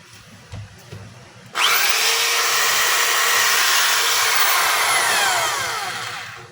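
A 1/2-inch Dewalt DWD024 hammer drill starts abruptly after a few faint knocks and runs loud and steady at high speed, its whine holding for several seconds before easing slightly at the end.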